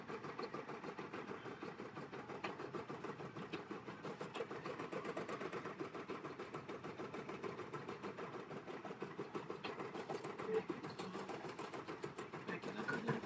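An embroidery machine stitching on a baby onesie whirs steadily and quietly throughout, with a continuous rapid needle rhythm and no talking.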